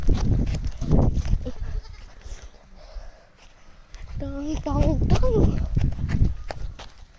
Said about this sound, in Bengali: ছাগল গুলো আমি এখন ধরবোই, ধরবো